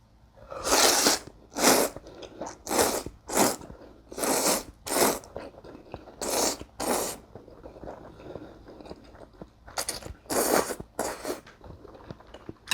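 Someone eats 7-Eleven Oil Star aglio e olio pasta, with a run of loud, close slurping and chewing bursts in irregular clusters, separated by brief quiet gaps.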